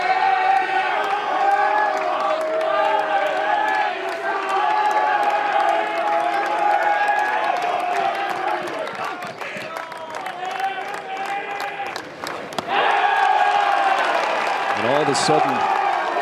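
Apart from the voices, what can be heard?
Arkansas fans chanting Woo Pig Sooie in the stands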